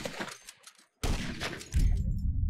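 Gunfire in the GTA 5 video game. A few faint pops give way to a sudden loud burst of shots, then a heavy rumbling thud, all close and without speech.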